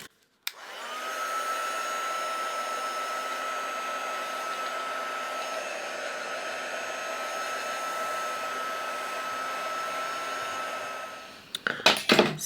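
A hair dryer blowing on a watercolour illustration: a steady, loud whooshing whir with a faint whine that runs unbroken for about eleven seconds, then cuts off into a few small clatters.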